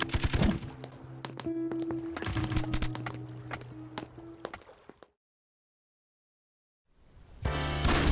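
Gunfire from Aya's pistol, assault rifle or sniper rifle in the game Eternal Return: rapid bursts of shots over tonal game music, then a sudden gap of silence before shooting and music resume loudly.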